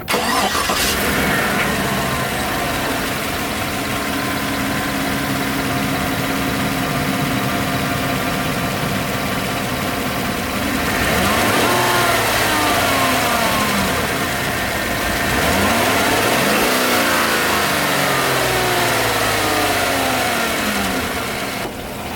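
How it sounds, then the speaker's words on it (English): A 2014 Chevrolet Silverado with an AIRAID cold air intake idles, then revs twice in swelling, fairly close bursts that settle back to a steady engine hum, with no talking. "I'm gonna rev it up a little bit."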